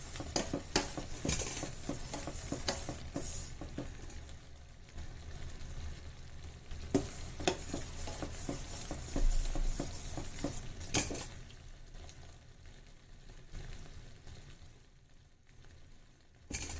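Namak paare fry in oil in a pan on a gas stove, with steady sizzling and a spoon repeatedly scraping and clinking against the metal. The stirring is close and comes in bursts, then the frying quiets down toward the end.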